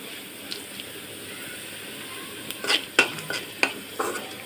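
Whole spices (cinnamon, cardamom, dried chillies and peppercorns) frying in a pan: a soft, even sizzle under a run of sharp spoon scrapes and clinks that grow busier toward the end.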